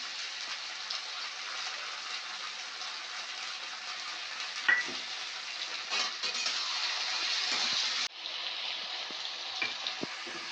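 Chicken pieces with chopped tomato, green chillies and ginger-garlic paste fry in a pan for Bengali chicken kosha, giving a steady, dense sizzle with a few stirring scrapes and one brief dip partway through. No one speaks.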